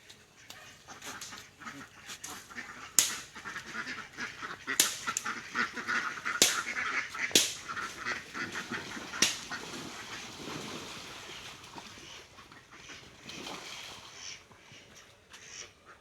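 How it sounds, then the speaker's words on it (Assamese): Domestic ducks from a flock of about fifty at a village farm pond and pen quack and honk in repeated bursts, some loud and close, others farther off, over steady outdoor background noise. "50টামান হাঁহো আছে মোৰ।"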